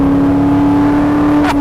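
A classic Maserati driving in a high gear, its engine holding a loud, steady drone with a strong hum close up, and no talk over it.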